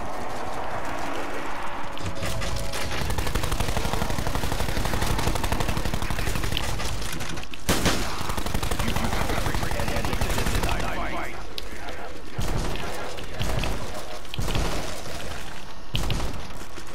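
Rapid, sustained gunfire from a gun in Black Ops 4, loud and close, with dense automatic bursts and short pauses, while a player talks over the shooting.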